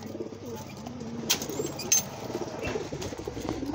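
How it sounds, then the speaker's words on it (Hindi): Domestic pigeons kept at home coo softly in a low, rolling rhythm, with occasional brief wing flaps and light household background noise; the birds sound close. "ये हमारे घर के कबूतर है सारे।"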